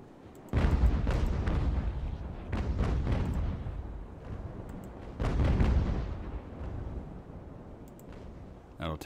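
Cannon fire from sailing warships in the naval battle game Ultimate Admiral Age of Sail: several rolling broadside volleys of booming shots, some in quick ragged bursts, with quieter rumbling gaps between them.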